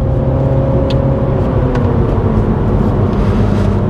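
A car engine pulls under steady, light acceleration through a left-hand bend, a continuous close hum with low tonal drone and road rumble, alone.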